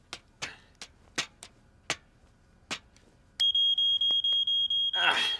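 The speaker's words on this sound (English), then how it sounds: "Now we can see to test the smoke alarm." In a Fireman Sam cartoon, several sharp clicks or taps sound at an uneven pace, then a smoke alarm under test lets out a loud, piercing electronic beep repeated in rapid pulses, ending in a brief noisy burst.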